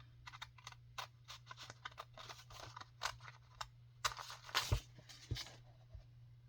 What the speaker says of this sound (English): So at the bottom, I'm going to cut these squares.